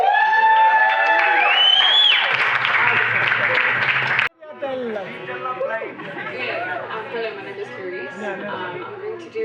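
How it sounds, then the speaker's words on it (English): A warm round of applause and cheering from a sold-out audience at a spoken-word show, loud and sustained with whoops at first, then giving way after a brief break to softer crowd chatter. "can I please have a warm round of applause going through this room"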